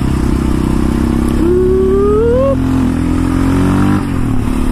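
Quad four-wheeler engine revved hard at full throttle, a loud close buzzing drone whose pitch sweeps up for a second or two then drops back to a steady idle-like rumble.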